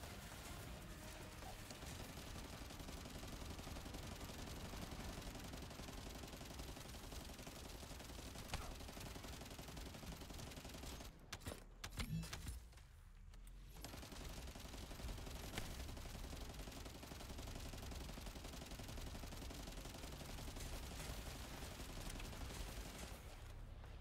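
Sustained automatic gunfire in the looter shooter game The First Descendant, a steady dense rattle of shots running almost the whole time with a brief gap partway through, set against a busy game soundscape.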